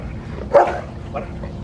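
A single sharp dog bark rings out near the middle, brief and close, over a low steady background hum.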